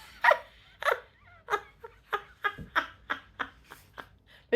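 A pet dog named Bella makes a run of short, breathy vocal bursts, whimpering and huffing in an uneven rhythm of about ten close, fairly loud yelps with brief gaps between them.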